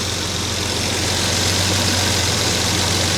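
A warmed-up car engine idles with its choke off, giving a steady, close, loud rumble with a low hum and faint ticking, unchanging throughout and with no talk.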